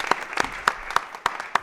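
Studio audience applause for a maestro on a morning music broadcast, heard as six sharp, evenly spaced claps in under two seconds, close and crisp rather than a sustained ovation.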